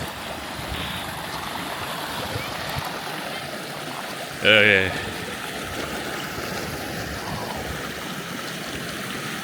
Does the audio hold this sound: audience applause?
no